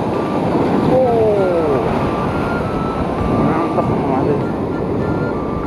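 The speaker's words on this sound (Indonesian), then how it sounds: "Besar sekali ombaknya." Large sea waves wash around a boat while fishing for bluefin trevally, a steady broadband rush of water and wind roaring throughout, with a voice speaking over it.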